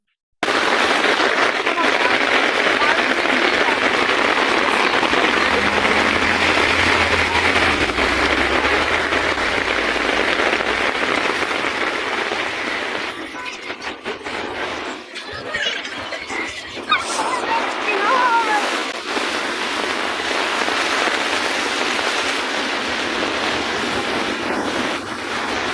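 A heavy downpour during a hurricane in Moscow makes a dense, continuous roar of rain, with wind buffeting the microphone and shifting gusts that grow rougher partway through.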